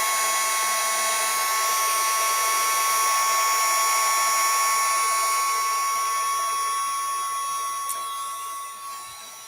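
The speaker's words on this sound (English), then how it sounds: "I can actually take my heat gun and dry it a little bit" A heat gun drying watercolor paint on a gnome card blows a steady, loud whirring hiss with a high whine, fading slightly toward the end.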